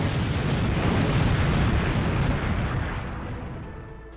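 A fireball projectile in a Roblox game explodes in a loud, sustained rumbling blast that slowly fades away, with no talking over it.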